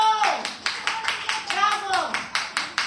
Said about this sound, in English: Clap your hands for Abdurrahman.